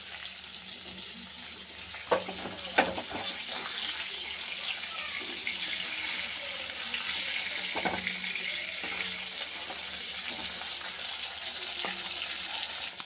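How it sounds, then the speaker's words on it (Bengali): Pangas fish frying in hot oil in a wok gives a steady, soft sizzle that runs through the whole span, with a few brief clinks or stirring knocks near the start. "কড়াই গরম হয়ে গেছে, তেল দিয়ে দিলাম। মাছটাকে আগে ভেজে নিই।"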